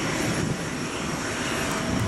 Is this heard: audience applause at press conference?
no